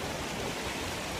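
Broadband rushing water from a small outdoor stream, steady and continuous at close range, with no voices over it.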